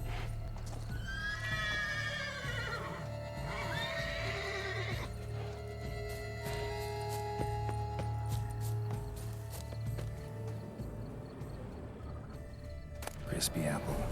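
In The Witcher 3: Wild Hunt, Blood and Wine, a horse whinnies in drawn-out, quavering calls and its hooves clip-clop over a low, steady ambient hum, with someone talking quietly now and then.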